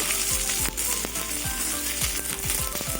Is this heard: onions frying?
yes